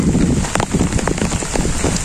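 Rain falls hard in a rural village, a loud, close wash of drops with scattered heavier splashes and patters spread across the whole stretch.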